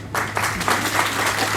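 A political rally audience in India bursts into clapping, a dense burst of applause starting abruptly and holding steady throughout, with a low hum underneath.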